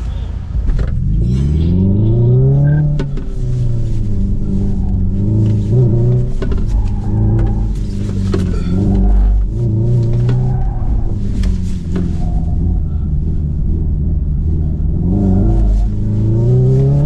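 A Hyundai Ioniq 5 N accelerates hard during a drift test, its loud, synthesized engine tone climbing and dropping in repeated sweeps over a constant deep rumble, close and continuous, with no talking.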